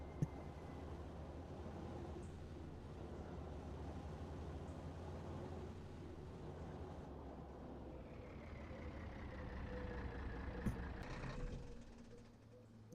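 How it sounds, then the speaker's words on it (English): A low, rumbling old truck engine in the video game Farming Simulator 25 idles and drones steadily, with a faint rising tone and a soft hiss near the end. "I do like that old truck"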